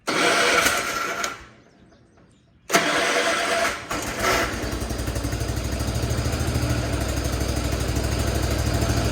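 A John Deere 212 lawn tractor engine cranks, falls briefly quiet, then catches and settles into a steady, throbbing run close to the listener.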